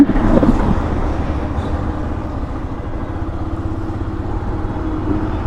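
A Yamaha Fazer V2 150 fuel-injected motorcycle engine runs while being ridden, giving a steady, low rumbling drone with wind noise that stays even throughout.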